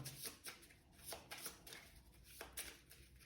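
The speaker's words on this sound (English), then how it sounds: "we'll shuffle our discard pile" A deck of cards from the Time Troopers board game being shuffled with rapid, repeated crisp riffles and slides, close and quiet, continuing throughout.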